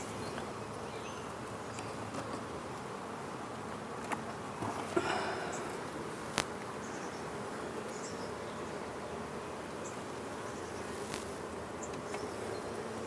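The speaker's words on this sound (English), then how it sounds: "I've got a bee inside my veil" Dense, steady buzzing of many honeybees around a beehive brood frame while nucs are prepared, a continuous close swarm drone lasting throughout with a few brief louder passes near the microphone.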